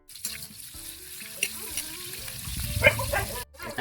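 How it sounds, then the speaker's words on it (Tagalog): Garlic, onion and tomato sauté in hot cooking oil, giving a building sizzle with stirring clatter that peaks near the end before briefly dropping off. "Kung gigisa na tayo, lagay tayo ng mantika. Bawang, sibuyas, kamatis."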